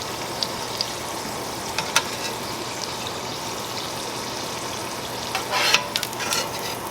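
Garlic fries in a pan for a shrimp po' boy, making a dense, close, continuous sizzle broken by occasional light scrapes and clinks of stirring.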